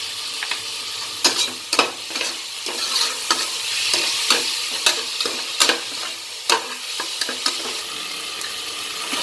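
Steady sizzling of tomatoes frying in a pan for mutton pepper soup, with repeated scraping clinks of a spoon stirring at an uneven rhythm, close up.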